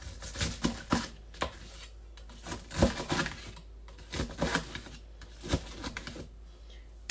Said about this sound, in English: So just cut up your lettuce.